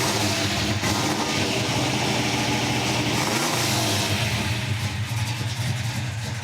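A big V8 engine, a 440 stroked to 505 cubic inches, idles with a deep, steady rumble, loud and close, with a slight lope and no voices over it.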